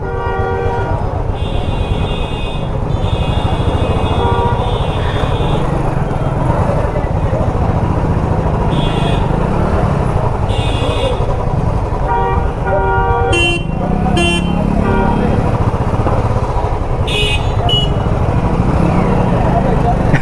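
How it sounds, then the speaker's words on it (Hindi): A heavy traffic jam on a city road in Bihar, near Patna on NH 20, gives a constant loud roar of engines, with repeated car and bike horns honking throughout and someone talking over the noise. "भाई साहब जाम तो काफ़ी है, बहुत ज़्यादा जाम है रे बाबा।"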